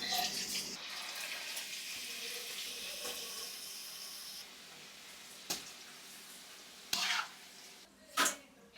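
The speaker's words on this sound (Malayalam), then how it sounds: "ഇനി ഇത് വറുത്തെടുക്കാം." Diamond-shaped pieces of rolled dough fry in oil, giving a soft, steady sizzling hiss broken by a few brief clinks and scrapes of a utensil.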